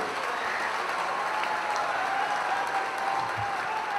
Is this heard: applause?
yes